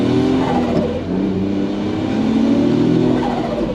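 A JDM mini truck's small engine revs hard under acceleration from inside the cab, a loud continuous drone that rises and falls in pitch through the gears, with road noise and no voices.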